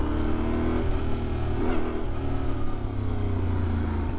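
Yamaha Tenere 700 motorcycle pulling away from a stop, its engine a steady low drone with a slightly uneven, snatchy throttle and a faint swell of revs midway, close and continuous with no talk.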